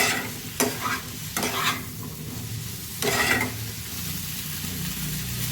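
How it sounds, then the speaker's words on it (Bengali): Potatoes are stirred into a bhola fish curry in a pressure cooker, a continuous sizzle under three distinct scraping strokes of a spoon against the pot, close and without talk. "আলুটা দিয়ে একটু প্রেসার কুকারটা বাড়িয়ে নিয়ে ভালো করে মিশিয়ে নেব।"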